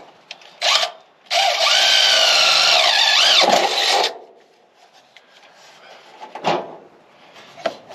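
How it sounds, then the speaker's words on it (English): A power drill bores a pilot hole during a 1961 unibody build, with a short whir, then a loud sustained grinding run of about three seconds, followed by quieter handling clatter and a few brief bursts. "I got 2 drills going here, because I'm drilling this pilot hole first."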